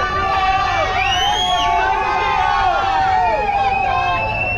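Crowd of spectators cheering runners along the course of the Rio Marathon, a steady loud roar of voices and shouts with whistle-like calls rising and falling throughout.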